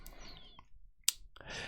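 A single computer keyboard key press, a sharp close click standing out briefly against a quiet room background with faint breathy noise.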